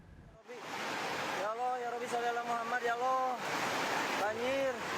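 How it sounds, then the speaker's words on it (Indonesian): A flash flood of muddy brown water carrying wood debris rushes with a constant broad roar, while a voice talks over it throughout. "Air berwarna coklat pekat bercampur lumpur dan material kayu ini tiba-tiba menerjang Kampung Cibojong"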